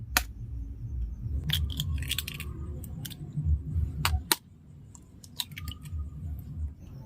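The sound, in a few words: two eggs being cracked into a mixing bowl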